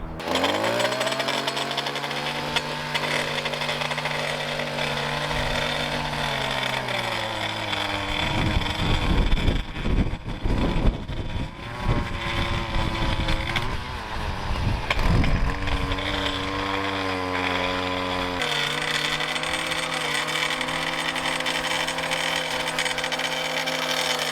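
A gas-powered lawn edger runs steadily while trimming grass edges before mowing a fertilized lawn, a loud droning engine that revs up into a rough, gritty cutting roar midway and then settles back to a steady whine.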